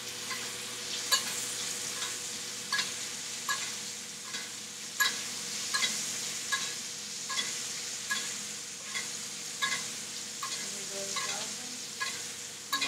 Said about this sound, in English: So I'm gonna let our steak toast.